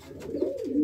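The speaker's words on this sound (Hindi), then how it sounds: "और अब मैं दिखाऊंगा आपको कलसरा कबूतर कैसा होता।" Kalsira pigeon cooing close by, a single soft, low, warbling coo that rises and then drops over under a second, with no other sounds around it.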